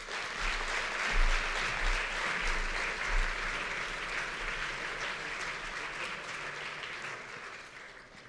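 A lecture-hall audience at a conference on environmental collapse claps steadily and loudly for several seconds, a dense, even wash of applause that slowly fades toward the end.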